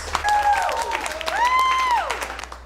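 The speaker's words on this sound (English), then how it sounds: "Give this guy a round of applause." An audience applauds steadily, with rising and falling whistles or cheering voices riding over the clapping for nearly three seconds.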